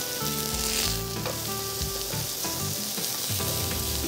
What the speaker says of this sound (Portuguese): Vamos virar para ver se já tá bom esse hambúrguer